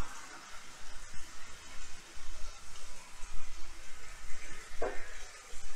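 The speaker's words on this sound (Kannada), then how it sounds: "ಎಲ್ಲ ಪೌಡರ್ಗಳನ್ನೂ ಹಾಕೊಂಡು ಈವನ್ ಆಗಿ ಮಿಕ್ಸ್ ಮಾಡಿಕೊಂಡು ಚೆನ್ನಾಗಿ ಫ್ರೈ ಮಾಡ್ಕೋಬೇಕು" Cinnamon, clove and chilli masala powders sizzle steadily in a tawa pan as they are mixed and fried evenly, a soft continuous hiss with a few faint stirring scrapes.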